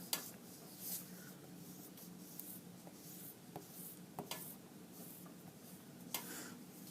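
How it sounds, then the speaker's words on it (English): Soft, quiet rubbing of an eraser scrubbing out a pencil drawing on paper, steady scratchy strokes with a few small taps, close and faint with no talking. "Let's erase some of this stuff."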